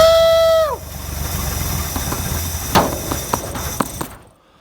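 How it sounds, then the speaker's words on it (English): An XY or XR Ford Falcon engine idles after its first start in 30 years. A brief falling whine gives way to a low, steady idle with a few sharp knocks before the sound cuts off. "This thing just fired and idled, and there wasn't even any lifter noise, so it must have oil pressure"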